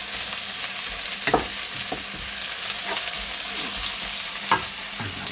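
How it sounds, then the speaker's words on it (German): Onions softening in a wok over high heat give a steady, close sizzle, broken every second or so by sharp scrapes and clatters of stirring. "wir wollen hier keine braunen Zwiebeln, sondern nur schön weich und angedünstet."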